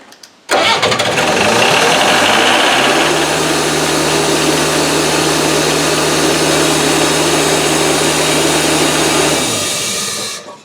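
An old Hydrovane compressor motor, unused for 18 years, starts abruptly and runs at a steady, loud, rough whirring hum for about nine seconds before it shuts off and winds down.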